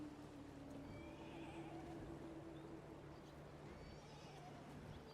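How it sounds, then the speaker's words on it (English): Horses whinny faintly over a low, steady background in the video game Path of Exile, with soft hoof clip-clops mixed in during a loading screen and no speech. "I mean, I can hear the horses."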